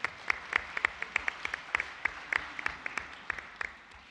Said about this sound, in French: on peut les applaudir pour la réussite de cette belle opération